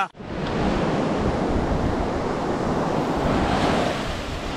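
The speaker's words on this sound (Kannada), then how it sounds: "ಒಳ್ಳೆ ಅಲೆಗಳು ನೋಡಿ" Ocean surf rolls steadily onto a remote sandy beach at Querim in North Goa, a continuous loud wash of breaking waves mixed with wind rumble on the microphone, with no voices.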